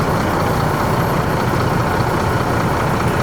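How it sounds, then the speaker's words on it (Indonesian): Cars and motorbikes sit jammed in heavy traffic beside LRT construction works near Manggarai, a dense, steady rumble of idling and creeping engines that fills the air loudly and without a break. "Sedangkan di belakang terjadi penumpukan ini mobil dan motor ya."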